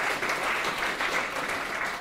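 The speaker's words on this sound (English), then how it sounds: "Give them a big round of applause." An audience at an inn applauds a performing arts group, producing a dense, continuous roar of clapping that stays loud and even throughout.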